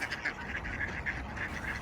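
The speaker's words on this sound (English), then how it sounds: "Some ducks run and try to catch food." Ducks being fed give quick, nasal quacks in a rapid repeating series at moderate distance, over a soft outdoor background.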